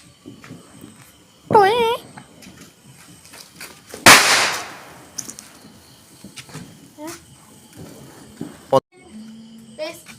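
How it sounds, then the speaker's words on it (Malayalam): Double parangi vedi firecrackers go off outdoors at a Vishu family celebration, with a whistling fizz followed by one loud close bang, then smaller pops and cracks while people talk. "ഡബിൾ പറങ്കി വെടിയിൽ ഒന്ന് ചീറ്റിപ്പോയി"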